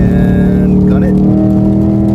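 A Ford Mustang GT S550 pulls hard in third gear, its engine droning loud and steady with a deep, rising note right up close throughout.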